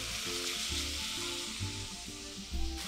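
Minced garlic sizzles steadily in a pan alongside beef being cooked for taco filling, a close, continuous frying hiss with soft rhythmic stirring scrapes and no voices.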